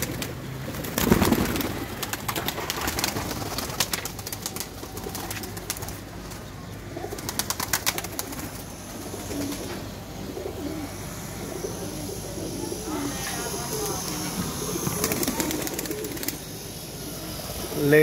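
Pigeons coo repeatedly inside a loft, their soft throaty calls rising and falling close by, with occasional chirps and faint wing flutters over steady background noise and a little quiet talk.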